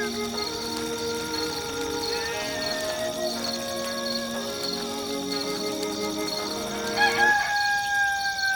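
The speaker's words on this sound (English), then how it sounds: "This rooster wakes me up every single day." A rooster in the Black & White 2 video game crows repeatedly over a constant bright ambient tone, loud and clear with no voices, ending in a louder burst of game sound.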